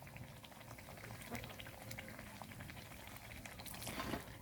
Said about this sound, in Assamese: মই এনেকৈ গোটেইকেইখন ময়দাৰ পিঠা ভাজি ল'ম।